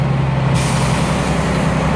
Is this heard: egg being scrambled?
no